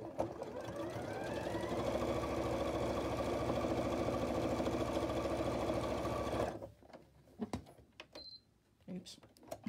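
A sewing machine runs steadily for about six seconds stitching a quilted pumpkin pot holder, then stops, followed by a few faint clicks and handling sounds in a quiet room.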